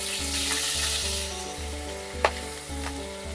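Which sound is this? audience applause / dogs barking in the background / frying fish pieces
frying fish pieces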